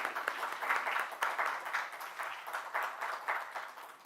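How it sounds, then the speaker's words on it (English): Audience applause for conference organizers at an academic symposium, a steady wash of many hands clapping for about four seconds with a moderately loud, even texture and no speech. "Chinar, Manisha, and Anuja, I think they deserve a huge clap"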